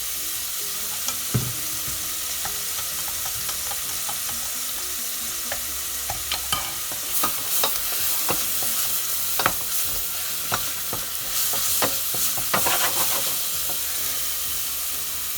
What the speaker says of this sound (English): So I'm going to saute the onion.